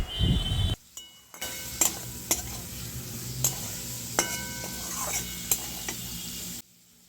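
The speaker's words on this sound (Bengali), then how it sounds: "মশলাটা ভালো করে কষানো হবে" A spice paste of coriander-cumin, turmeric and a splash of water is sautéed for a boiled egg curry: a steady sizzle with repeated crisp spoon scrapes and clinks against the pan, ending in sudden quiet.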